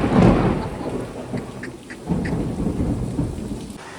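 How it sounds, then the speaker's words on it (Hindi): Loud thunder cracks and rumbles over heavy rain pouring down, close and alone with no voices, the storm swelling again midway. "बिजली बहुत कड़कती है यार"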